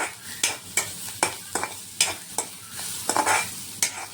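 Vegetables with carrot stir-fried in a pan make a steady sizzle, broken by regular sharp spatula scrapes about twice a second, close and clear, with no voices.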